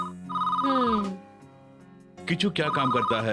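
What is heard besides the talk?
telephone ringing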